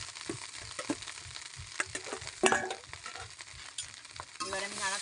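Meat for kodai biryani stirred and fried in a pan, a steady sizzle with rhythmic scraping strokes and a louder clatter midway, close and continuous with no voices.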